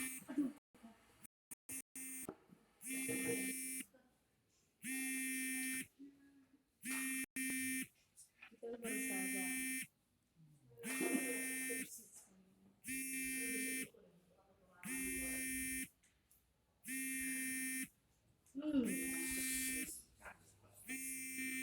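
A phone buzzes repeatedly for an incoming call, steady harmonic buzzing bursts of about a second each separated by short gaps, with a person talking quietly between them.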